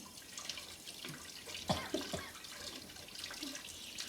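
Something being rinsed under a running kitchen tap, a soft continuous flow of water with a few splashes and drips partway through, faint and close, with no voices.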